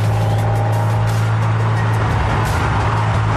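A low, steady drone hums inside a handmade show car while driving, with road and engine rumble layered underneath and no talk, continuous for the whole few seconds.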